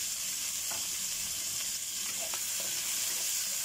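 Tomatoes sizzling as they go into a hot pan of pork pata and mung beans, a steady bright frying hiss with light stirring clicks and scrapes, close and continuous, no talk.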